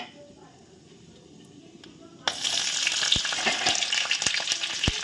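Onion and capsicum pieces with a dried chili dropped into hot oil in a pan, a quiet start that bursts into loud, continuous sizzling with a few sharp stirring clicks.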